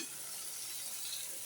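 Lukewarm water goes into a pan of vegetable curry made with broad bean pods and plenty of coriander, giving a steady, fairly quiet hiss and sizzle with no break and no voices.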